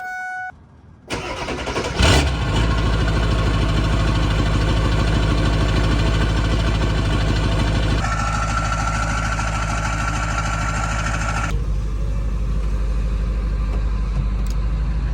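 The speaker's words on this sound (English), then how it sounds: "let's go ahead and get a startup." Truck engine cranking and catching, then settling into a loud, steady idle close by, the tone shifting slightly partway through as it runs on.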